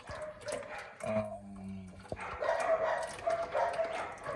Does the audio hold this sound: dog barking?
yes